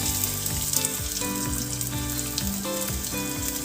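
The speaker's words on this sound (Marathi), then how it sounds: "तेल गरम झालेलं आहे। तर सर्वात आधी आपण कांदा याच्यामध्ये टाकूया" Chopped onion frying in hot oil with lentils and fenugreek leaves, a loud continuous close sizzle and crackle with no talk, while steady tonal background music runs underneath.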